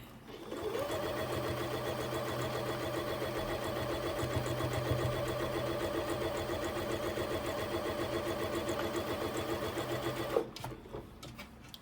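Sewing machine stitching matched seams of simple quilt blocks, a steady fast mechanical whir and needle chatter running continuously and close for about ten seconds before stopping abruptly, with a few small handling clicks after.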